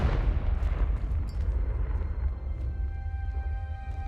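Confringo blasting spell explosion in Hogwarts Legacy, a single loud deep boom that rolls off into a fading rumble with faint ringing tones.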